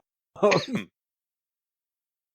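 A single short, rough cough bursts out close to the mic, followed by silence and a brief faint sound at the very end.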